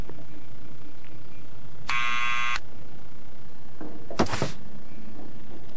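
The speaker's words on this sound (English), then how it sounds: "So let's try the buzzer." A harsh electric buzzer sounds once for about half a second in the adventure video game Back to the Future, loud and near, followed by a brief mechanical thunk against a low ambient hum.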